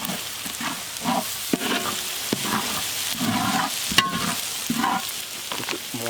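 Small onions and spices frying and sizzling in a pan for fish curry, stirred steadily in a repeating scrape-and-sizzle rhythm, close and fairly loud with no talking.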